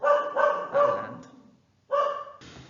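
A small female dog barks loudly and close by, four sharp woofs in quick succession, a pause, then two more, heard alone with no speech over them.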